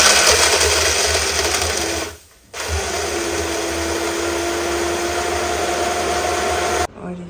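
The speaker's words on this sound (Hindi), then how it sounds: "चलो जी, नाउ टाइम टू ब्लेंड।" A kitchen blender whirs loudly and steadily as it blends a chocolate mocha frappe, cutting out briefly, restarting, and running on before stopping abruptly near the end.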